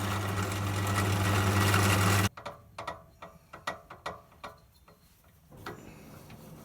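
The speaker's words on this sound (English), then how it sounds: "I'm using the Forstner bit to do that." A Forstner bit drills a flat into the foot of a wooden Christmas ornament, a loud steady whirring for about two seconds that stops abruptly, followed by a series of light knocks and clicks.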